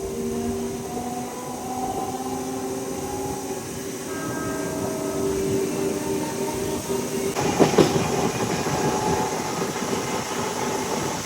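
A Kacheguda–Raichur MEMU passenger train rumbles along the tracks from Malakpet with a steady roar, faint tonal hums and wheel squeals, and a louder rattling clatter near the end.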